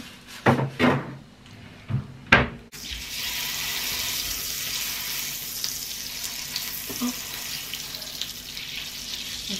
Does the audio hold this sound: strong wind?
no